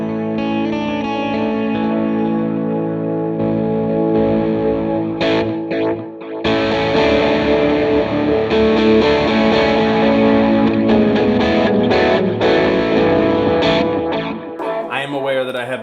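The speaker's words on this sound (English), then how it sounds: "I love that wow and flutter in there." An electric guitar through a Line 6 POD Go, with wavering, warbling wow and flutter pitch modulation, plus distortion and echoey ambient reverb, plays loud and sustained chords.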